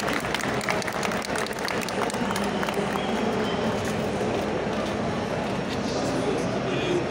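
An audience claps steadily at a geek convention talk on dubbing, with dense, sustained applause and a voice speaking over it.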